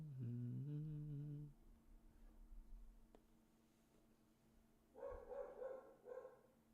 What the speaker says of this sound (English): Hopefully you don't hear that dog.